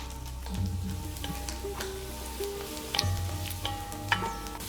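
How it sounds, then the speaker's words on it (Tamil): Veld grape sautéing in plenty of oil, with a steady close sizzle and occasional light stirring clatter running through the whole stretch. "இதில் நான் தாராளமாக எண்ணெய் விட்டதுனால தான் இப்போ நன்னா வதங்குது"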